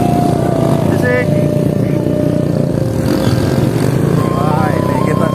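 A motorcycle taxi (ojek) engine labours steadily while climbing uphill toward Temiangan Hill in the rainy season, a loud, continuous drone close by from start to finish.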